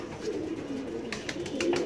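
Domestic pigeons cooing on a rooftop where they are kept and cared for, a soft low murmuring coo that runs steadily throughout over light background noise.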